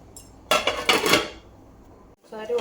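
A metal lid set down onto a cooking pot in a home kitchen, a sharp clattering clank with a brief ringing rattle, followed by quiet and then another short metallic clatter near the end.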